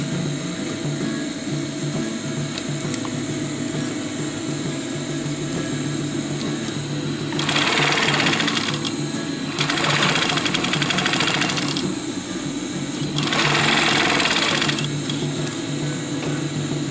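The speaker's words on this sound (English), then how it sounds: "Let's first sew on the top side of the pocket." A sewing machine stitches along the folded top edge of a fanny pack pocket in three loud bursts of rapid running, with steady room hum between the runs.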